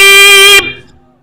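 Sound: man imitating a jeep horn with his voice

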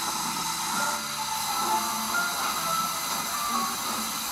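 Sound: steam locomotive hissing

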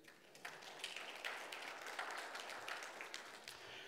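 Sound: congregation applause

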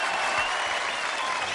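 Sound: children applauding themselves

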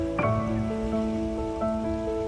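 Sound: flowing water like a stream

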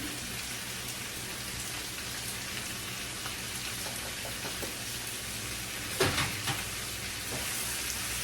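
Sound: spices sizzling in a pan on the stove

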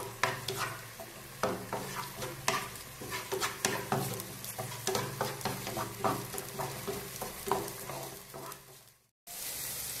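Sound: stirring chopped onion and garlic in a pan

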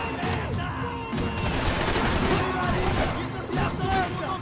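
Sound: gunfire in video game Max Payne 3

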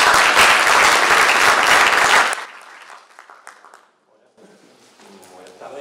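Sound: audience applause for speaker Carlos

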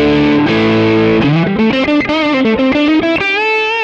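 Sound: electric guitar through CR2 TONEX tone model on Quad Cortex

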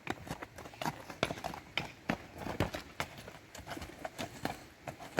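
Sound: horse hooves clip-clopping

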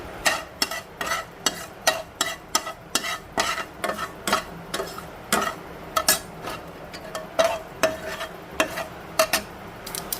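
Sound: spice tempering frying in a pan for fenugreek curd

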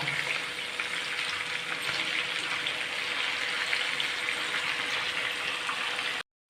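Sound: chicken frying on medium flame

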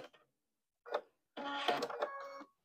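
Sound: sewing machine sewing a quilt seam

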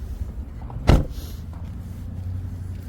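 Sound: opening the hood of a Toyota Prado 120

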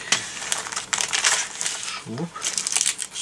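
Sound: plastic bag of model parts crinkling

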